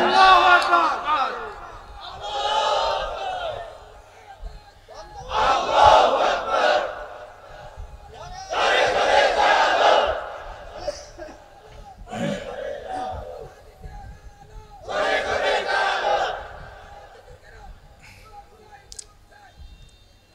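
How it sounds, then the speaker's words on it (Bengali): A crowd at an outdoor Islamic waz gathering roars the takbir chant in several loud, separate bursts, each answering a lone male preacher's call. "তাকবীর দাও না রে ভাই।"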